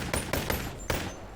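Gunshots fired at turrets in the Boneworks VR game, four quick sharp cracks in an uneven rhythm over a low background hum, fairly close and with no talking.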